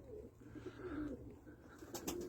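Pigeons cooing in a loft, a steady low murmur of soft coos with a few brief higher chirps near the end, close and continuous over a faint background hum.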